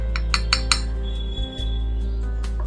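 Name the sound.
spoon of salt added to taro and potatoes in bowl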